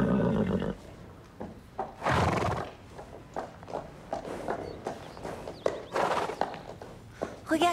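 A cartoon horse whinnies loudly at the start, then hooves clip-clop in an uneven walking rhythm with a few sharp snorts and thuds, close and clear.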